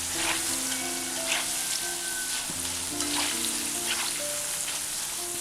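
Tender jackfruit pakoda pieces fry in hot oil over medium heat, giving a steady, close crackling sizzle throughout. A faint tonal background runs underneath.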